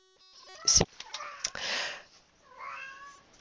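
A cat in heat meows up close, a sharp loud cry followed by breathy, drawn-out yowls and a sniff, with quiet gaps between calls.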